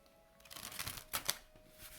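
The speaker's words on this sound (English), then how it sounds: "try some fold-in shuffling." Soft, quick rustling and clicking of a small travel tarot deck being fold-in shuffled by hand, a short quiet burst with a couple of sharper snaps, close and without speech.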